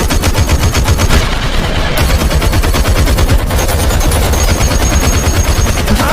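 Dense, continuous gunfire from a film shootout, automatic bursts and rapid shots packed together at loud, steady intensity throughout, with no talking.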